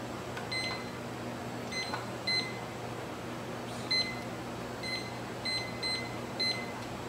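A kitchen timer in a lab setting beeps in short clusters of high electronic tones, spaced irregularly over a faint steady hum.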